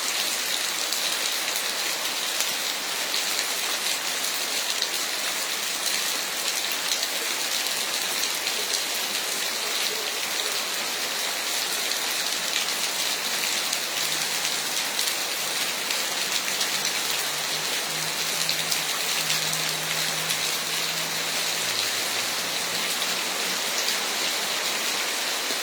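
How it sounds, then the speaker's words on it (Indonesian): Heavy rain pours steadily in Pangandaran, West Java, accompanied by strong wind, a dense continuous hiss with no voices, constant and loud for the whole stretch. "guyur hujan yang cukup deras"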